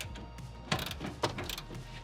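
A wrench cracks loose a single suspension bolt, giving two sharp ratcheting clicks near the mic with a low mechanical rumble between them, no voices.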